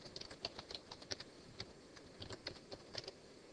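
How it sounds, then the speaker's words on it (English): Soft, quick keystrokes on a computer keyboard, a run of irregular clicks with a few firmer taps, faint and close with no talk. "And then hitting the Enter key on the keyboard."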